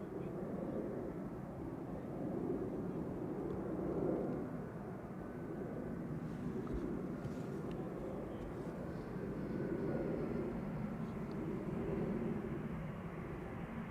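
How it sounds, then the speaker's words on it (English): An Embraer 190 jet airliner arriving from London City rumbles at a distance as a steady, broad engine roar that swells and fades slightly, with people talking over it at an airport. "Here you have your rare Embraer."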